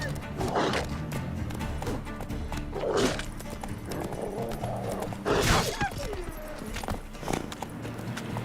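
Roach, a horse in The Witcher 3 video game, gallops with rhythmic hoofbeats and occasional snorts under game music and effects, while a voice speaks commands to the horse.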